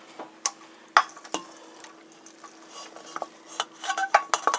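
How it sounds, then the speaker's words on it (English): Noodles stirred through sauce in a casserole with a wooden spoon, giving scattered wet squelches and soft knocks against the dish that grow busier toward the end. "Just give this a good mix."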